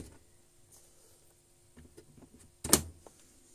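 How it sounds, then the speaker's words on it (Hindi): An HP ink tank printer switches on, giving a few faint ticks and then one brief, louder mechanical clack and whir in an otherwise quiet room. "अभी प्रिंटर को ऑन करते हैं।"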